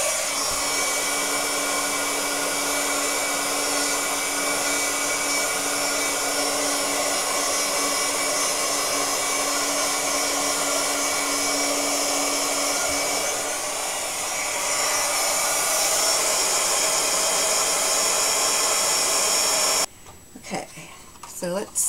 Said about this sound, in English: First thing we're going to do is heat up our tool.